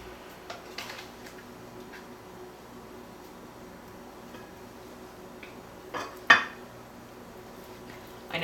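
A spatula works a freshly baked cinnamon roll free from its pan, with faint light clicks early on and then a brief, sharper metallic clank against the pan near the end.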